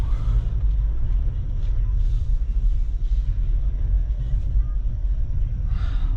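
A 2020 Jeep Wrangler Unlimited Sahara on 35-inch tires drives along with a steady, deep cabin rumble of engine and road noise and a faint voice underneath.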